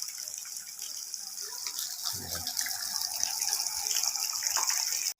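Water gushes steadily into a concrete fish pond during a water change, a continuous hissing splash close by that swells slightly louder before cutting off abruptly at the end.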